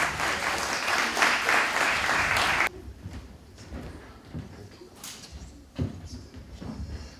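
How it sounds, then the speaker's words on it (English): A crowd at an MLK Day celebration held by a Cape Verdean association applauds as a city councilor comes up to speak, a dense burst of clapping that stops abruptly, leaving room noise and shuffling. "Please give him a round of applause as he comes up."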